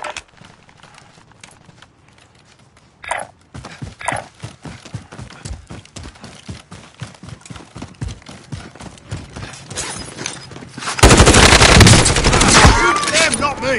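Call of Duty Warzone gunfire arrives as a steady run of evenly spaced automatic shots that grows louder and ends in a sustained, heavy volley.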